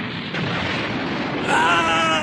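A magical wind spell blast in the anime Slayers Try roars out as a sustained whooshing burst, intensifying partway through with a rising whistling edge, loud and close.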